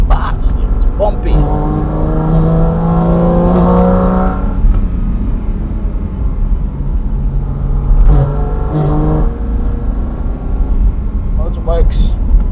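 A Porsche Cayman GT4 RS climbs the Furka and Grimsel alpine passes, its engine rising in two strong revving pulls with a quieter, cruising stretch between them, heard close and loud.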